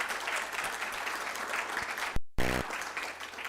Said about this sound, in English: So let's give all our resource panelists a big round of applause.